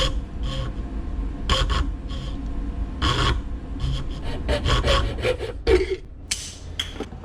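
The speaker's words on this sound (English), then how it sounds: "start here at the binding, and start cutting." A saw cuts through the binding of an OM-18 acoustic guitar body to fit the neck, a series of short, rasping back-and-forth strokes in uneven bursts, close and fairly loud.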